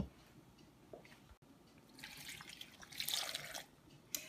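Water is poured from a cup into a pot holding eggs, a faint trickle that builds into a brighter splashing pour and fades, quiet and close, with no voices.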